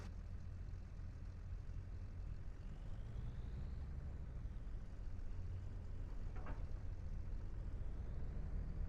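Low, steady engine drone of a combine harvester in the Farming Simulator 25 video game, a continuous rumbling hum holding evenly throughout with a brief faint click near the end.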